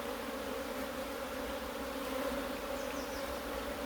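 Honeybees buzz in a steady, dense drone while drone-comb frames are lifted and shaken out of the hive, close and continuous.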